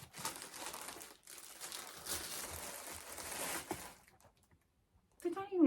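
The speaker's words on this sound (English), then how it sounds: "Still in the plastic bag." A plastic bag crinkles around a pair of new Ralph Lauren socks, with bursts of close, crackly rustling that pause and then resume briefly.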